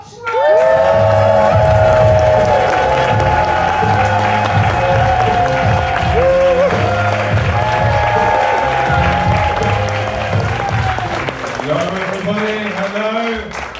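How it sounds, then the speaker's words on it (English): A comedy club crowd claps and cheers loudly to welcome comedian Richard Stott onstage, a dense sustained roar that stays strong for most of the stretch and tapers slightly near the end, with voices mixed in. "stamp your feet, clap your hands"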